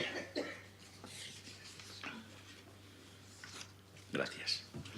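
A person coughs a few times, fairly faint and with gaps between the coughs, alongside quiet talk and a steady background hum in a meeting room.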